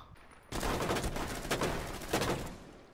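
Gunfire from a player's weapon in a shooter video game breaks out after a short quiet start, a dense, loud, rapid burst of shots with a couple of stronger peaks, continuing to the end.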